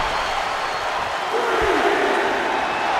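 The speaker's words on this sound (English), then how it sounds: "drawing a big reaction from the crowd" Arena crowd in the wrestling video game WWE 2K24 during a Raw match, a steady broad roar of cheering that swells slightly partway through, with a commentator-style voice faintly underneath.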